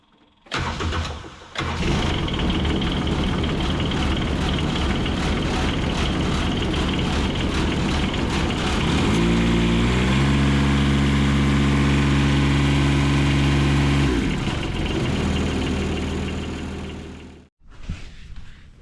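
A diesel road roller engine cranks briefly, then catches and runs loud and rough nearby, with a steadier lower idle settling in midway before the engine is shut off near the end.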